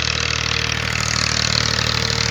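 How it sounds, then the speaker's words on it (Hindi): A tractor engine runs steadily near an eroding riverbank, a constant loud mechanical drone with a low throbbing hum and no pauses, close by and without talk. "ये जो ट्रैक्टर आ रहा है, ये अपने बड़े बड़े दरख्तों को काट कर चढ़ा के ले जा रहा है।"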